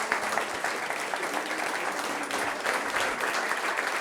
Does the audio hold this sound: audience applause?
yes